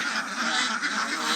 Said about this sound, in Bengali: এখানে আমরা হাঁসের খামার